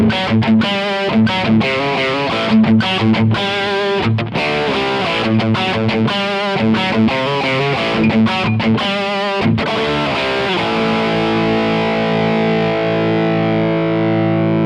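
A 1961 Epiphone Olympic electric guitar with a single pickup, played through a higher-gain distorted tone, strums a loud run of chords and picked notes, then lets a final chord ring out and slowly decay.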